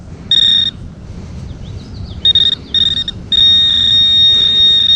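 Metal detector signal tones sound as loud, steady high-pitched beeps in bursts of varying length, with short warbling sweeps between them, over faint low background rumble while searching for buried metal objects.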